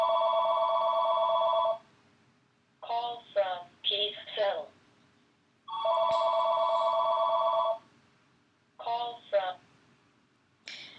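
A telephone rings twice in long electronic bursts, with a person speaking between and after the rings in a quiet indoor room.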